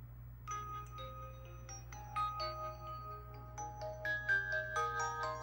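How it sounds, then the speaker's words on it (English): Royalty-free music playing through a tiny vapeonly bone conduction Bluetooth speaker, a quiet plinking melody of bright tones over a steady low hum, faint and thin. "I'm gonna try to play some royalty music,"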